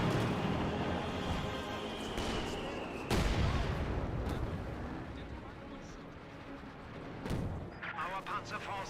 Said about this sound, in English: Great mortar hit there.